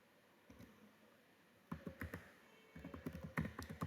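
Keys clack on a computer keyboard while someone types in Excel. A few isolated taps come first, then a steadier run of quick, light clicks, close and quiet, with no talking.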